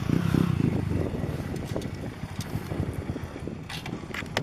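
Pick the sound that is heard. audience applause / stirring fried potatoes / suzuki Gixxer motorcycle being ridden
suzuki Gixxer motorcycle being ridden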